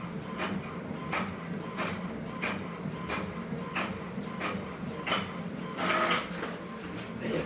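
A home photo printer with ink trouble running through a print job, a steady mechanical whir with regular ticking and clacking strokes of the print head repeating about every half second.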